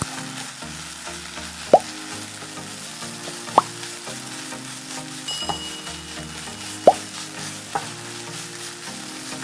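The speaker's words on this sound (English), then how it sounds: "So please cook your tomato paste. So we're going to give it a stir." Tomato paste frying in a pot for minced beef stew, stirred with a utensil: a steady close sizzle runs throughout, broken by a few sharp scrape-and-clack strikes of the spoon against the pot, no voices.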